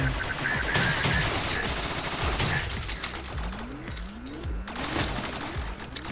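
Pistol gunfire in the game Rec Room cracks in rapid, repeated shots, dense and loud, mixed with rising electronic game sound effects.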